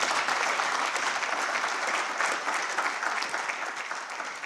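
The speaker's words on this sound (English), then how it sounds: "Let's give our President another round of applause" Audience applause for the President at a dialogue on vaccines in Africa, a dense, steady wash of many hands clapping that fills the room, easing slightly toward the end.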